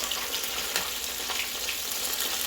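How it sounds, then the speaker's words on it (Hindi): Chicken nuggets frying in hot oil give a steady, crackling sizzle, loud and close with continuous hiss and small pops throughout; no talking. "इनमें पानी ज़्यादा है ना, इसलिए वो शू शू शू शू कर रहे हैं।"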